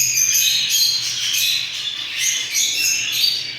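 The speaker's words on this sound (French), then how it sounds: "C'était le petit lâcher des oiseaux." A flock of birds in an aviary just after release makes dense, continuous shrill squawking and chatter, loud and close, with a faint low hum underneath.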